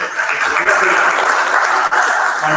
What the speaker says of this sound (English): one round of applause for our wonderful